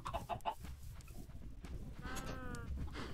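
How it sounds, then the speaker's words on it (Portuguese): Chickens in the video game Minecraft, faint, short clucks scattered over soft background game sound, a few near the start and more later. "Nossa, tem muita galinha aqui."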